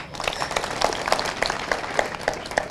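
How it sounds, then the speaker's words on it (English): Clapping from a college audience at a technical institute, with distinct individual claps standing out over a continuous bed of applause at steady loudness. "if you are clapping, clap"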